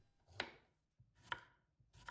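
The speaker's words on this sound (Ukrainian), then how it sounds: "від них я відрізаю хвостики та нарізаю на невеличкі шматочки, приблизно 2-3 мм товщиною" Three crisp knife chops slicing cucumbers on a cutting board, evenly spaced about a second apart, close and clear with quiet pauses between.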